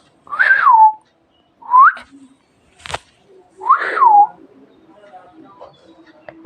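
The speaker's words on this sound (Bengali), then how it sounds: "একটু একটু আওয়াজ বার করছে জানো।" A very young, still-featherless myna chick gives a few close, thin whistled calls with rising and falling pitch, separated by short pauses, with a faint tap in between.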